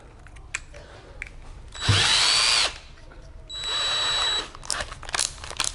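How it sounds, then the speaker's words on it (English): A power drill whirs in two short bursts of about a second each, the first with a rising whine, drilling into a gyro's metal frame, separated by pauses and light clatter. "with this drill bit"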